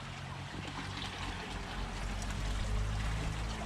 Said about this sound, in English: I need to grab one of these air stones and put it in for 20 minutes.